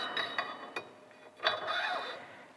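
An Ohlins FKS 508 fork cartridge for a Harley-Davidson FXLRS/T is tightened down with a hand tool, giving a few close, quiet ratcheting clicks and short metallic mechanism sounds with no talking.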